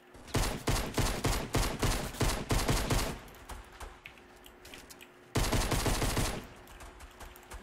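Rapid pistol fire in Fortnite Battle Royale: a fast run of close, loud shots for about three seconds, a brief lull with quieter distant pops, then another quick burst of shots.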